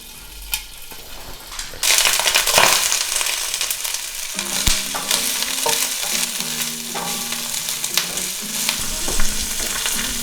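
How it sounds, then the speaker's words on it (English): Broccoli sautés in a hot pan with loud, close sizzling and frying. Stirring scrapes and clatters against the pan now and then, and no one speaks. "First in broccoli. We're gonna let that cook for about 2 minutes."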